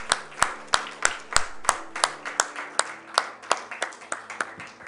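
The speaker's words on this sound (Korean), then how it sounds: "우리 영광의 박수 하나님께 드리겠습니다." A church congregation claps in a slow, steady rhythm after prayer, about a dozen distinct hand claps spaced evenly, moderately close and with a faint murmur behind them.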